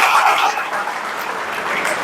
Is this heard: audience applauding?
yes